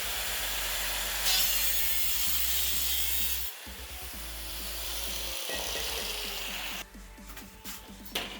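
A piece for a propane forge build is cut, giving a continuous loud rasping, sawing sound that shifts in texture partway through, close and steady with no talk.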